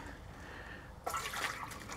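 Cold water is poured into a pet rabbit's water bottle in winter, a faint hiss that breaks into a louder splashing, trickling pour about halfway through, with no talking.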